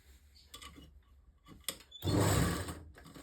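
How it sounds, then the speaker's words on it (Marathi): A sewing machine stitches a straight seam on palazzo pants in short, halting runs, ending with one louder sustained burst of stitching at close range. "इथे शिलाई मारत असताना स्ट्रेट सगळीकडून शिलाई मारून घ्यायची आहे"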